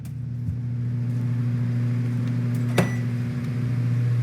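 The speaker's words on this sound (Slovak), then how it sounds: "Dobre, dajme mikrovlnku. Pripravíme si ju." A microwave oven hums steadily in a Roblox cooking game, a constant low drone running throughout with one brief click or beep near the middle.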